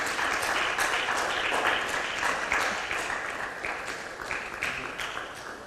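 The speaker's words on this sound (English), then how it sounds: "A round of applause for this champion." An audience at a World Press Freedom Day ceremony applauds a climate journalism champion, a dense, lively clapping that holds steady and then slowly tapers off, with no talk over it.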